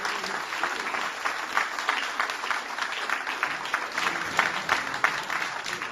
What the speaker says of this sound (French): Alors je voudrais que vous applaudissiez tous Titouan.